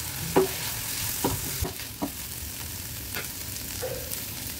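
A ridge gourd filling with salt and ground coconut is stir-fried in a pan, producing a soft sizzle under several distinct spatula scrapes and knocks, spaced irregularly and close by.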